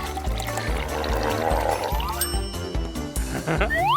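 Liquid pours into a cup in a toy play session, a continuous gurgling trickle over a steady thumping electronic music bed, ending in a rising glug.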